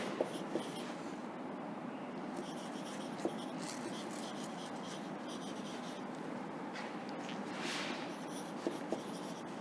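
Writing on a board during a school lesson: quiet scratching strokes in a calm room, with a few faint taps and no talk.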